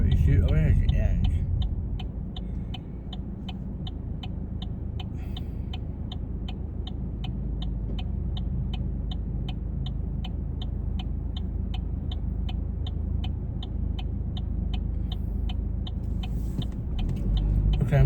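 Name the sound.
car driving on road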